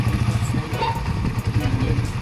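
A motorcycle engine runs close by with a steady low putter and light clatter, idling unevenly with faint revving swells, while people talk softly over it.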